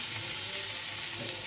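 Eggplant frying in hot oil with black cumin, dried chilli and bay leaf gives a steady, close sizzling hiss throughout the short stretch, with no voices.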